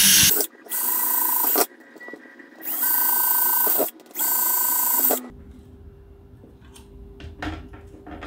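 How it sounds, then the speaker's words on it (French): A drill with a 5 mm bit bores through a jig in three sustained loud whining bursts separated by short pauses, followed by quieter handling noise and a faint lingering hum. "je vais mettre mon gabarit, ma foreuse, avec la mèche de 5"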